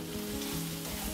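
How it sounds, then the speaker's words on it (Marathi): Red chilli powder, coriander-cumin powder and garam masala sautéing in hot oil for chana masala gravy on high heat, a loud continuous sizzle with stirring, close and alone without voices. "आता हे 1 मिनिटभर आपण चांगलं परतून घेऊया"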